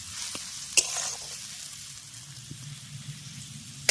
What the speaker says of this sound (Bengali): তেল গরম হয়ে গেছে, এবার মশলা মাখানো গিমাগুলো এর মধ্যে দিয়ে দিচ্ছি।